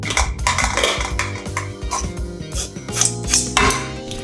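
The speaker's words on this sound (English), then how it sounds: "Press the potatoes through a sieve into a pan." Boiled potatoes being pressed through a metal sieve into a pan, with a busy run of clinking, scraping and tapping metal utensil sounds, close and fairly loud, without voices.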